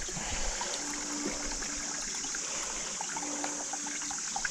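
Water running from a mountain spring while bottles are filled along a Himalayan pilgrimage trail, a steady close trickle and splash without a pause, at low level throughout.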